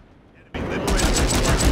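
Video game gunfire erupts after a brief quiet moment, a loud rapid automatic burst that continues steadily to the end, with a voice chatting faintly underneath.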